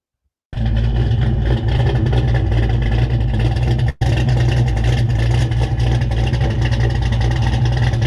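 A Ford 351 small-block V8 growls through a muffler, starting suddenly and staying loud and near as a steady, throaty rumble with one brief dip partway through; no voices.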